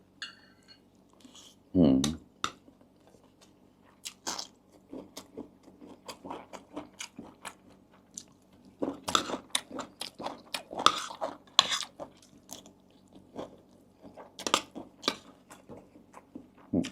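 Crispy food is chewed close up in a series of irregular crunching bites, with one sharp crunch followed by scattered crisp chews and occasional faint scrapes.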